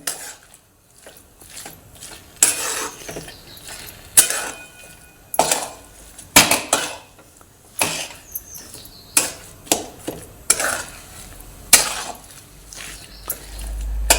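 Jaggery and amla jam mixture being stirred in a pot over a gas flame, heard as repeated scraping, clinking knocks of a utensil against the pot in an uneven rhythm, close by and moderately loud.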